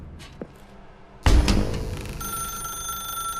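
Telephone ringing in The Stanley Parable video game: a sharp, loud bell-like ring bursts in after quiet ambient sounds, then settles into a sustained ringing tone that carries on to the end.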